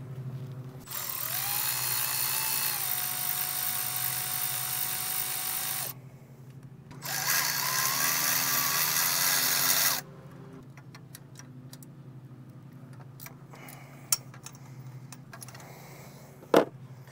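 A power tool spins out bolts on a Duramax diesel fuel rail during engine work, two sustained whirring runs of several seconds each, followed by quieter clicks and a couple of sharp knocks.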